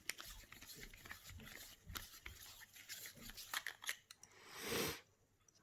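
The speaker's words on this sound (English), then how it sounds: "You can get to the motor by screwing this off" The motor cover of an Ambition Soldier tattoo machine is unscrewed by hand, producing close, soft scraping and rubbing with scattered small clicks and a louder grinding twist near the end.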